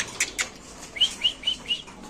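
A couple of quick wing flaps from pigeons followed by a short series of soft chirps, close and fairly quiet, no voices.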